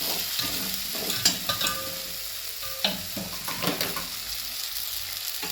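Vegetables sizzling in a hot pan while a spoon stirs and scrapes in irregular bursts, close and fairly loud.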